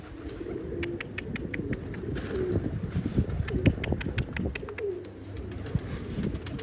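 Pigeons coo softly and repeatedly close by, low rounded calls in an irregular rhythm, with faint rustling and other background sounds.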